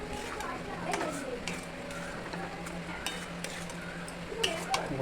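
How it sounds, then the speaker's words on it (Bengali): A spoon stirs fried pointed gourd through a spice mix in a pan, giving light, irregular scrapes and clicks with a faint sizzle running underneath. "পটলটা দিয়ে একটু নাড়িয়ে চাড়িয়ে নেব।"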